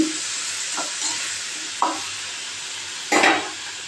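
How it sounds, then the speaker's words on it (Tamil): Tomatoes sautéing in oil in a pan for a kurma side dish, with a steady broadband sizzle and a few brief stirring scrapes, one louder near the end. "அதையும் போட்டு கொஞ்சம் அதே எண்ணெயோடவே அப்படியே வதங்குறேன்."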